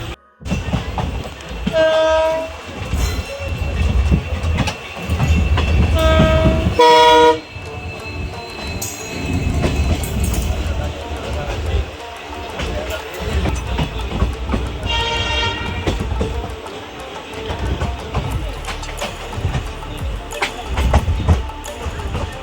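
A train on the Bhavnagar to Surendranagar line, approaching Dhola Junction, rumbles along with steady clattering wheels, sounding its horn in a few loud blasts, one long and others shorter, close by.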